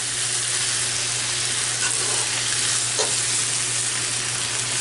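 Philly cheesesteak meat fries in a pan with a constant, loud, close sizzle and crackle that never lets up, with no voices.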